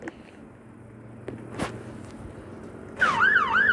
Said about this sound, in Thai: รถตำรวจ